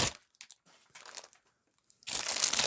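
A plastic bag and padded envelope from knife packaging being handled, with short crinkling bursts and pauses, then a louder, sustained crumpling rustle close up.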